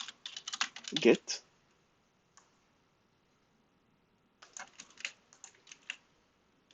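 Keys tapped on a computer keyboard in quick clustered bursts, close and fairly quiet, with a pause in the middle before a second run of typing; a brief spoken word cuts in near the start.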